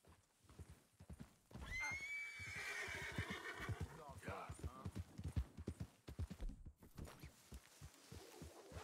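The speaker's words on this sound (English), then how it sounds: "That's a cool horse here." A horse in Red Dead Redemption 2 whinnies loudly with a long wavering call, followed by repeated hoof clops, while a person talks over much of it.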